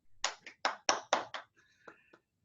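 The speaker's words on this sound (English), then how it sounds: "I'd like you to give yourselves a round of applause" At a Rotary club meeting, a handful of separate, loud handclaps ring out one after another, followed by a couple of softer claps and faint tonal ringing before the sound stops.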